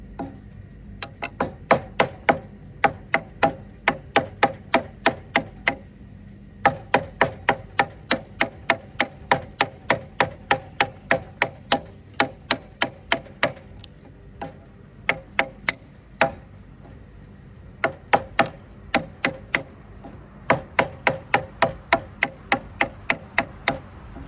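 A chisel is struck repeatedly to cut timber for a barn frame, giving sharp, evenly spaced knocks in long runs with brief pauses between them. The blows sound close and clear.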